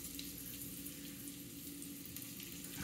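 Garlic sizzling in hot oil in a pan for fried rice: a steady, quiet crackling fry close by, continuous throughout with no talking.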